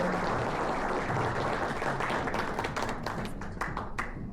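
An audience applauds at a car award ceremony, a dense wash of clapping that fills the room and thins toward the end into separate louder claps.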